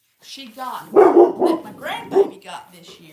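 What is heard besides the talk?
toy dollhouse dog barking sound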